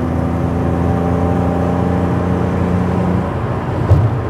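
A Mercedes W124 with a 3.0 engine running on an EMU Classic ECU drones steadily under load while climbing a hill, a close, even engine hum with throttle held open and a brief bump near the end.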